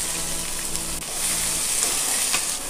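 Onion frying in a pan with oil for ragi upma, a steady close sizzle with faint stirring scrapes running throughout, no voices.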